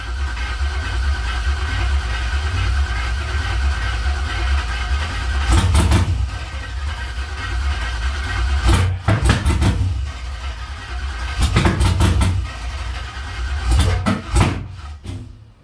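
Car running on two-year-old gas in its tank: a steady low engine rumble with several sharp clattering bursts, as if it is cranking or catching, loud and close.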